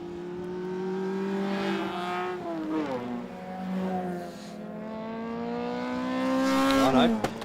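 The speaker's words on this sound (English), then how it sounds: "the power of the MGB just walking away down the back straight" An MGB historic race car at a circuit's festival of speed accelerates hard down the back straight, its engine note climbing through gears with a brief dip and rise, loud and sustained.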